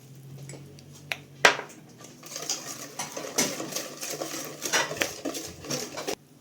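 A whisk or spoon clatters steadily against a bowl while milk is mixed into semolina basbousa batter, quiet scraping and clinking in an uneven rhythm, with a sharper knock near the start and no talking.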